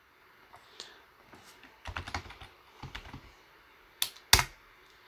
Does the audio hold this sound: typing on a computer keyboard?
yes